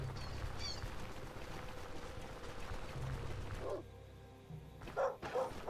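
Dogs barking in the video game Stoneshard: a few short, sharp yaps spaced through the clip, surrounded by quiet in-game ambience and with no talking.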